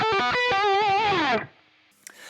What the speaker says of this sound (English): then we get this really wicked diminished lick.